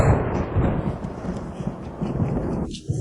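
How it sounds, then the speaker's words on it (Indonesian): Thunder rumbling from a lightning strike, a broad loud roar that holds steady for about three seconds and then cuts off abruptly. "Bohong belum keluar, petir udah nyambar."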